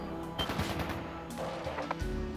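Rapid gunfire crackles in The Legend of Heroes: Trails into Reverie, a dense volley of automatic shots and bursts, moderately distant and steady throughout, with no voices over it.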